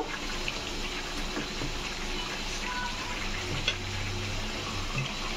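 Mutton pieces frying with potatoes and spices in a pot, a dense, even sizzle close by with faint scraping from stirring.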